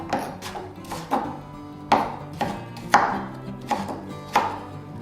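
Watermelon rind being chopped into small pieces with a knife on a wooden board, about a dozen crisp, sharp chops in an uneven rhythm, close and clear with no talk.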